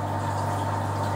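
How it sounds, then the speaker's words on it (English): Brewhouse pumps run with hot water circulating through a newly built brewing system, a constant low mechanical hum and steady watery whoosh, close and even throughout with no voices. "The noise you can hear in the background is some pumps and water heating up"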